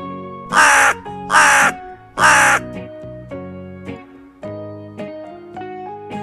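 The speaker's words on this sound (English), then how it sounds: "Crow." Three harsh, raspy caws from a crow ring out loud and close in a spaced sequence, followed by soft instrumental music playing on by itself.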